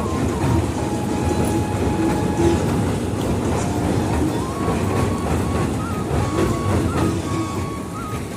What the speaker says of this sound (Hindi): ये देख रहे चारों तरफ घूमते ट्रेन